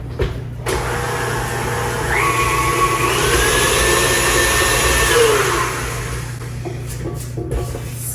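An electric mixer whirs steadily while blending cookie dough with egg and extract for fall harvest cookies, a loud continuous motor drone that swells slightly midway and then eases off, with no talking.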